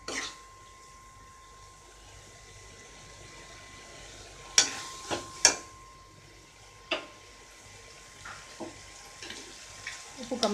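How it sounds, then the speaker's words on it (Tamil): Masala sautéing in a pan for squid thokku: a faint, steady sizzle runs throughout while a spoon strikes the pan now and then with sharp, scattered clacks. "மசாலாவோட பச்சை வாசனை போகிற வரைக்கும் நம்ம வதக்கி விட்டுட்டு இறக்கிடலாம்"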